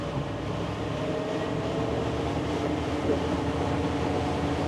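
A motorboat's outboard engine runs and builds as the boat accelerates on open water, a steady rumbling drone with wind and water noise, no voices.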